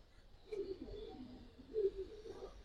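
A pair of green Gola Bagha pigeons coo softly up close, giving two low, throaty rolling calls in a quiet setting.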